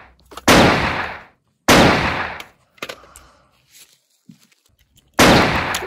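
Loud gunshots in a winter war setting: four sharp, booming reports spaced about one to two seconds apart, each with a ringing decay, and faint scattered noises between them.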